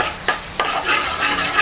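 Butter melting in a pan with a soft, even close sizzle, punctuated by two quick scrapes or taps of a utensil early on, brief and without talk.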